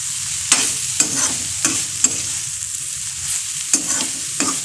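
Soybean chunks fry in a pan with a steady sizzle, while a spoon scrapes and stirs them in regular strokes, about eight distinct clacks set close against the hiss.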